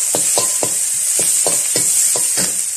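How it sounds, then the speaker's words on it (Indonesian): Shallots, garlic and pounded chili stir-fried in a pan, a loud steady sizzle with regular scraping stirs about every quarter second, close up and without talk. "Kita tumis bawang merah, bawang putih, cili yang sudah kita tumbuk tadi."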